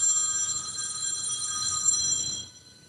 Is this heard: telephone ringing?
yes